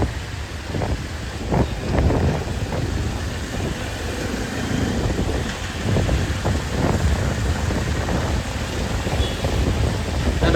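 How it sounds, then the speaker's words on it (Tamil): Heavy rain pours down in Coimbatore during a red-alert downpour, a dense, steady hiss with gusty rumbles of wind buffeting the microphone and no voices over it. "ஆனால் மழை நல்லா பெய்யுதா."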